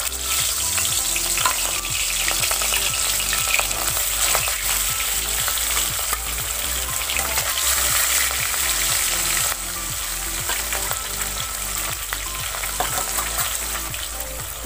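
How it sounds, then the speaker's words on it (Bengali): Pieces of rohu fish fry in hot mustard oil, a loud, continuous bubbling sizzle with a rapid crackling pulse throughout, easing slightly in intensity partway through. "আমি এবার মাছগুলো ভেজে নেবো এক এক করে"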